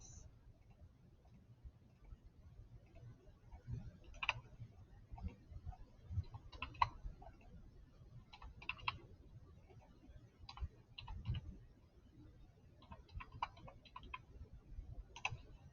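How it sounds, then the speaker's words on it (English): Calculator keys being pressed while entering a long calculation, faint scattered light taps and clicks in irregular rhythm over a low room hum, close but quiet. "So I'm going to type in that whole thing into the calculator"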